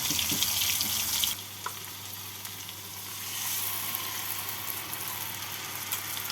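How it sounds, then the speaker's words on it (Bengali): Water poured into a pan of frying poppy seed paste for paneer posto, with a brief splash giving way to a steady hiss and sizzle that carries on close by without any talk. "ফোড়নটা হয়ে গেছে এর মধ্যে আমি দিয়ে দেব বেটে রাখা পোস্ত মিক্সিং জারটা ধুয়ে কিছুটা জল দিয়ে দেবো"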